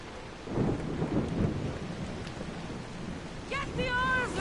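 Stormy weather at sea in Assassin's Creed Odyssey: steady rain and wind with a low rumble of thunder early on, and a brief tonal call near the end.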